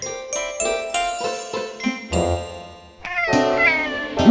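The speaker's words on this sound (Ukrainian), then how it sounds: "А це ось найдревніша домашня кішка у світі." A domestic cat meows several times in short, tonal calls, close and clear, with a brief pause before a longer, louder meow near the end.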